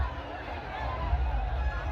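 A dense, noisy crowd fills the Rangpanchami Rahad colour festival in Nashik, its babble and shouting steady and close, with voices rising and falling throughout.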